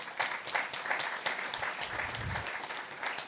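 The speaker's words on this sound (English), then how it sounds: "So a round of applause" Steady applause from an audience at a community meeting, a dense, continuous clatter of many hands clapping at moderate distance, without talk.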